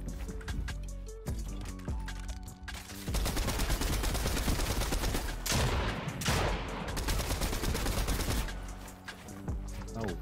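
Gunfire rings out in a Fortnite match: loud rapid bursts and single sharp shots cut through dense game effects and explosions, sometimes clustered, sometimes spaced apart, with a brief lull near the start.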